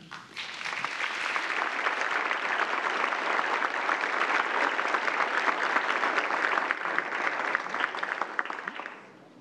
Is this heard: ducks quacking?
no